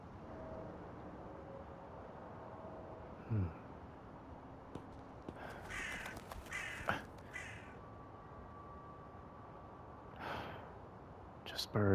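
Birds caw in the video game Wuthering Waves, a few scattered calls over a steady hiss of ambient game sound, with faint breaths and small effects around them.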